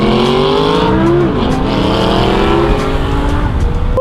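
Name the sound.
Lamborghini Huracan car driving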